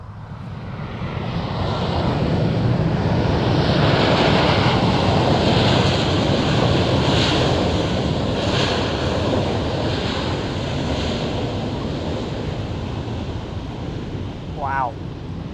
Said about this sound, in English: Pretty crazy sprays there. The reverse thrust kicking up.